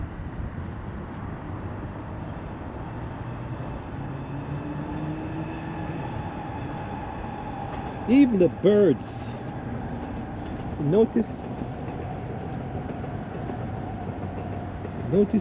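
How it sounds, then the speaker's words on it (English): A train rumbles past steadily with a continuous low roar and occasional metallic squeals, while someone talks over the noise. "here comes the train"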